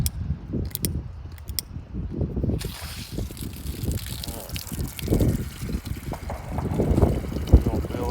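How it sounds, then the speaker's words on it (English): Water pours into a container being topped up for a homemade weedkiller mix, a continuous splashing fill that runs steadily the whole time with faint handling noise. "we're going to fill that the rest of the way up with water."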